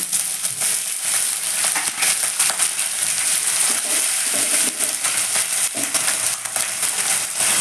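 Onions frying in a pan with a splash of water, cooking for a boal fish curry with mustard and poppy seed. A loud, steady, crackling sizzle runs the whole time, with light scraping and stirring and no talking.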